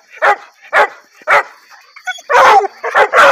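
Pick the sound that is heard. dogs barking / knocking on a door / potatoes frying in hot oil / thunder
dogs barking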